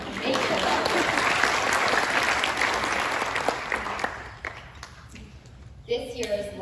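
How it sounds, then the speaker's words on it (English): Audience applause fills a school moving-up ceremony, a dense, steady clapping from the crowd that holds strong for several seconds before thinning out, with scattered claps trailing off near the end. "round of applause just for making it up"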